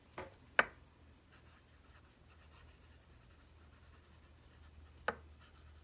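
A fountain pen scratches across smooth Tomoe River or Clairefontaine paper in a few short, faint strokes, with near-silence between them.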